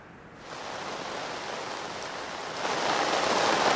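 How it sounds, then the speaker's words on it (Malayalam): Heavy rain pours down over Kozhikode city, a steady broadband hiss that swells louder partway through, with no voices. "നഗരത്തിൽ ശക്തമായ മഴ പെയ്യുകയാണ്."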